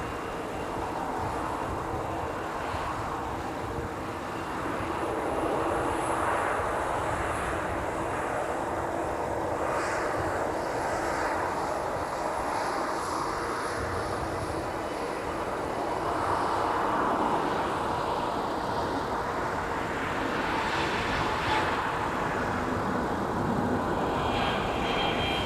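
A Frontier airliner departs in winter at Minneapolis–St. Paul airport, its jet engines giving a steady, broad roar that holds through the whole stretch without voices.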